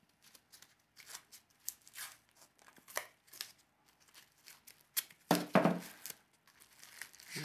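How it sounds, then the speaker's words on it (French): A piece of tape is torn off a roll to wrap a tattoo machine, giving close, crinkly ripping and crackling with a louder tear near the end. "Je vais prendre un morceau de tape."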